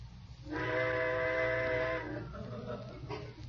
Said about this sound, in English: Trains. I suppose they're going to blow all night now.